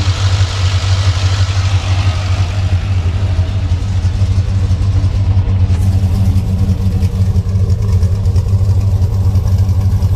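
A customized truck engine with reworked cooling piping between its two front cylinder heads runs loud and close, holding a steady rumbling idle throughout with no speech.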